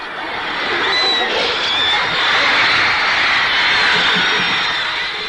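A massive crowd of nearly 27,000 at a concert in Vancouver, British Columbia, roars and screams continuously, a dense wall of high-pitched shrieking that stays loud and sustained throughout.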